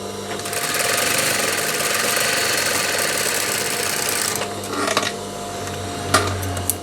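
A high-speed industrial sewing machine stitching a test run on fabric makes a loud, steady, close whirring buzz for about four seconds, then stops, leaving a few faint clicks and handling noises.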